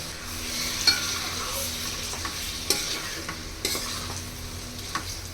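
Washed beef going into a sizzling spice masala for beef bhuna khichuri, a steady frying hiss with intermittent spatula scrapes and light clinks against the pot, no voices.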